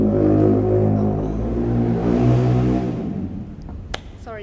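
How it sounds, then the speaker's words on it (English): A loud motorcycle roars past close by, its engine drone swelling and then fading away over about three seconds, followed by a few faint clicks. "sorry, it's another loud motorcycle."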